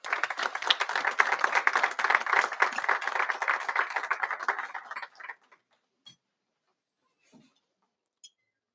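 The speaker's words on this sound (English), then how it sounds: "let's give him a great round of applause" An audience at the European Young Chef Award 2022 cooking competition applauds a young chef in a dense burst of clapping that lasts about five seconds, then stops abruptly, leaving a few isolated claps in silence.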